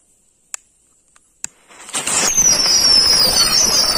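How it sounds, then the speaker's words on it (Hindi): A string of whistling Diwali firecrackers is lit after a few sharp snaps, then bursts into a dense, loud crackling roar under a long, falling high-pitched whistle. "सो नेक्स्ट आता है व्हिसल लड़ी,"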